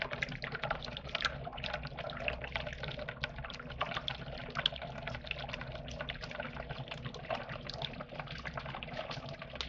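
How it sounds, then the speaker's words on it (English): Water bubbles and fizzes steadily inside a 22-plate HHO hydrogen generator cell running at 47 volts and 19 amps, a dense continuous crackling hiss heard close and unbroken with no talk. "Show the bubbling here."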